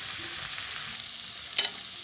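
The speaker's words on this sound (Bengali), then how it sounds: "তো এই পেঁয়াজ রসুনগুলো আমি কিছুক্ষণ আমি ভাজবো।" Steady sizzling of onions and garlic frying in a hot pan, a continuous bright hiss with a brief louder crackle or stir near the end.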